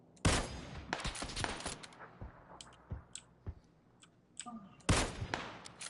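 Gunfire in the PUBG battle royale game, played on PS4 with keyboard and mouse: several loud, sharp shots and short bursts ring out at irregular intervals, with the sharpest cracks near the start and end and fainter shots and clatter in between.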